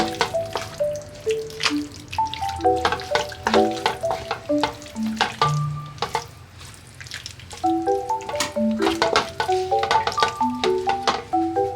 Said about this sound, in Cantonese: 然後用鑊鏟將佢撈勻佢。